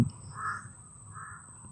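A crow caws twice, a harsh drawn-out call followed by a second fainter one, over a quiet background with a steady high whine.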